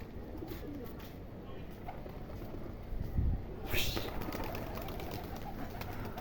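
A pigeon coos on a rooftop among other birds, a low soft burst near the middle over faint outdoor background and murmured voices.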